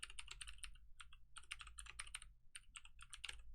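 Rapid clicking of a computer keyboard being typed on in quick bursts, close and fairly quiet over a low steady hum, with a short pause midway.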